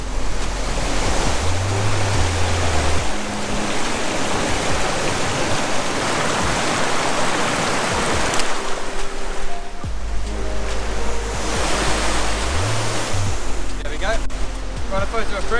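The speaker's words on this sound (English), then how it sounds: "You guys probably can't even hear me now because of all this waterfall noise." Loud, continuous roar of a waterfall, a broad rushing wash that stays dense throughout, with low rumbling bursts like wind buffeting the microphone and no clear speech over it.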